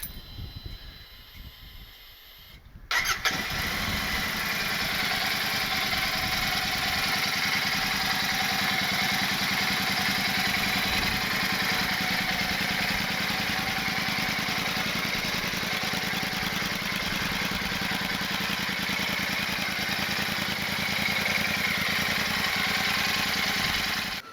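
Quiet at first, then a Royal Enfield Super Meteor 650 with an aftermarket AEW Performance exhaust starts and idles steadily with a loud, rough, throbbing exhaust note that holds constant until the end.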